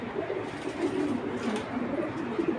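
Foreign golden-bloodline black checker male pigeon cooing in a loft, with low murmuring coos over a busy, steady din of other birds, fairly close and moderate in level.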